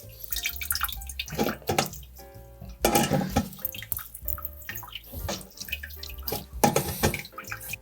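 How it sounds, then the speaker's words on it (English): Cooked spinach is squeezed and mashed by hand while its water trickles and drips into a container below. The liquid sounds are close and irregular, with splashy bursts and steady dribbling. "I'm just gonna keep mushing it until I don't hear the water trickle into the bottom anymore."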